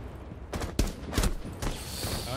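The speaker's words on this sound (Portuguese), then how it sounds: "Opa, tô levando tiro aqui" Gunfire in the tactical shooter game Rainbow Six Siege, several sharp broadband shots and short bursts in quick succession, fairly close and loud over a constant background hiss, with no talk over them.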